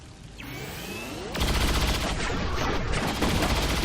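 Rapid bursts of gunfire in the turn-based squad game XCOM 2, a sudden loud volley kicking in after an opening whoosh and continuing as a dense barrage to the end.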